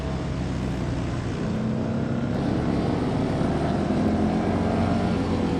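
Bagger motorcycles race down a straight at the Bagger Racing League finals in Las Vegas, giving a loud, continuous engine roar that holds steady with no break.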